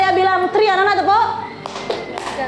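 Children in a classroom clap on cue during a maths lesson: a couple of sharp claps follow a teacher's spoken instruction.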